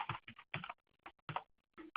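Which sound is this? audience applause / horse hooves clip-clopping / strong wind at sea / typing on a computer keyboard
typing on a computer keyboard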